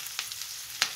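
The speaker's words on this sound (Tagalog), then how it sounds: "Halo-haloin natin ang ating mga sangkap at saka chicken guys" Chicken with garlic stir-fried alongside broccoli sizzles steadily in a pan, with two sharp utensil scrapes standing out against the constant frying hiss, close up and with no talking.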